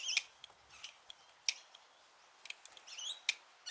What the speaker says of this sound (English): so we can just snip those off